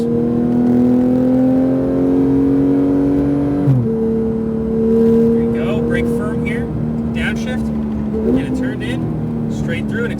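A Porsche 991 GT3 RS engine holds a steady high-pitched drone on track, shifting pitch midway as it accelerates, with people talking over the constant engine noise.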